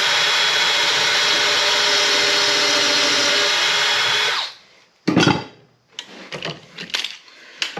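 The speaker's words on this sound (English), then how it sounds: "We're gonna throw 2 screws, one on each corner with this Craig jig." A power drill runs continuously for several seconds driving a screw through a Kreg pocket-hole jig into a wooden storm door frame, then stops, followed by scattered clunks and knocks of handling.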